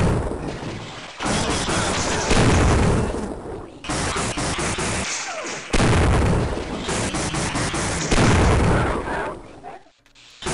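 Gunfire in the 1998 video game Half-Life, a loud rapid series of heavy shot and explosion bursts in three long stretches separated by brief pauses.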